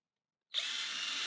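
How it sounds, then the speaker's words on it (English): A drill driver bores into a wooden seed box, starting abruptly and holding a steady, loud high-pitched whine until the end, with no talking. "I've already installed this one into my drill driver"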